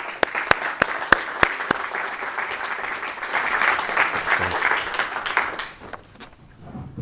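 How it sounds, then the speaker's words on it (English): An audience at a Birmingham art talk gives a round of applause for a champion: a few sharp separate claps open it, then a steady clatter of many hands swells and trails off near the end. "a little round of applause for our first champion, Andy Ingemels"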